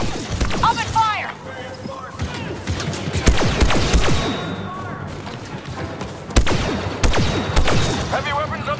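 Blaster fire crackles through a Star Wars Battlefront II battle at Endor, with repeated bursts and heavy thuds layered over game voices shouting orders.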